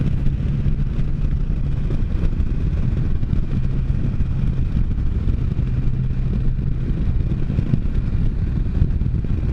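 A Can-Am Spyder three-wheeled motorcycle running on tires at 9 psi cruises at highway speed, its engine and the passing wind forming a loud, steady, low roar throughout.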